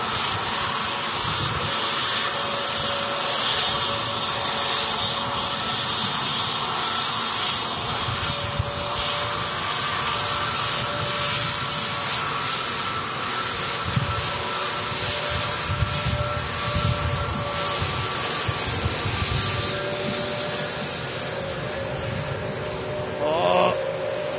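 An aircraft at Manchester Airport rumbles steadily for about twenty-four seconds in the open air, a broad sustained engine roar with faint tonal whine above it, and some bits of distant talk mixed in.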